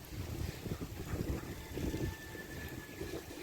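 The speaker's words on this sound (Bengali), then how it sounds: "এই পানি ছুঁয়া ছুঁয়া বাতাস আসতেছে" Steady wind gusting across an open pond under a cloudy sky ahead of a storm, a broad rushing roar with low rumbling buffets against the microphone, continuous and fairly loud.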